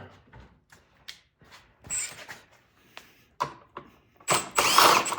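Bolts being removed from a Craftsman snow blower, heard as scattered clicks and ratcheting taps, then short bursts of a power driver near the end, close and intermittent with quiet gaps.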